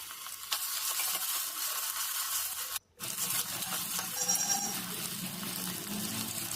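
Onions, bay leaf and ginger garlic paste frying in oil in a pressure cooker for drumstick curry, giving a steady close sizzle with stirring scrapes throughout and a brief dropout midway.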